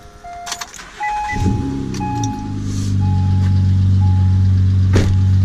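A 2009 Acura MDX engine cranks briefly and catches, then settles into a steady, loud idle with a low droning hum and chimes from the dashboard at the start.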